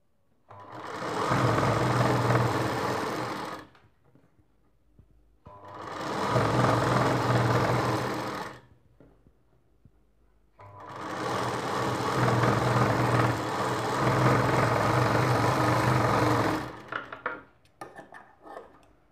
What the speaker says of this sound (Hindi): पहले इस प्रकार से हम एक साइड में सिलाई लगा देंगे।